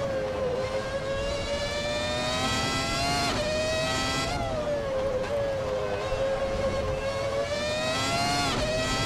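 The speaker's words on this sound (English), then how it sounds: "Just slam down the throttle and it sticks to the track." A 1998 McLaren MP4-13 Formula One car in Assetto Corsa at Spa-Francorchamps howls at full throttle, a loud continuous high-pitched engine whine that rises through the gears with brief dips at each shift, with no talk.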